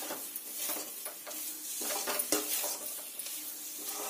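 Milk made from powdered milk, with crushed cardamom and a pinch of salt, is stirred nonstop in a pan for a sweet. A steady, soft scraping and swishing plays over a low, constant sizzle-like hiss, with no talking.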